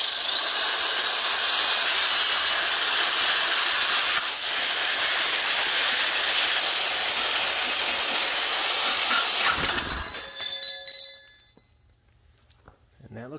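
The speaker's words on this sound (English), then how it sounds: "I'm going to clean up the piston and anything left over with a wire wheel" Power drill spinning a brass wire wheel to clean a riding lawnmower engine piston, a loud steady whirring scrub for about ten seconds before it winds down and stops into near silence.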